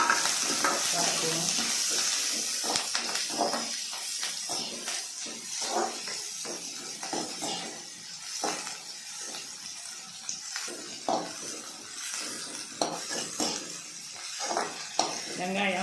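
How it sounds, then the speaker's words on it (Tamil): Green chillies and onions sauté in a pan for kurma, a soft sizzle broken by frequent scraping stirs and clinks of a spoon on metal, with some speech-like sounds in the background. "அதோட பச்சை மிளகாய், வெங்காயம் எல்லாத்தையும் சேர்த்து வதக்குவோம்."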